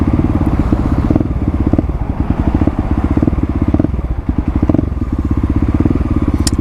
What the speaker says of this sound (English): So I can blip the throttle a little bit more here.